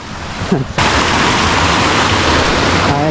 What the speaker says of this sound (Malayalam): ഇവിടെ നല്ല വെള്ളത്തിൻ്റെ ശബ്ദമാണ് ഈ പാറകൾക്കിടയിലൂടെ ഇങ്ങനെ ഒഴുകി പോവല്ല